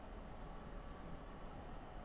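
An ALP45 electric locomotive in Train Simulator, on a snowy NJ Transit run, gives a steady, fairly loud rumble and rolling noise as it picks up speed, with no talking.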